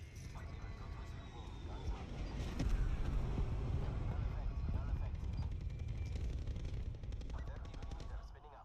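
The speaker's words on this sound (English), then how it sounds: "Requesting Thresher strafing run." A Thresher strafing run in a video game tears through as sustained rapid gunfire and heavy rumbling bursts, loud and continuous for several seconds over game ambience.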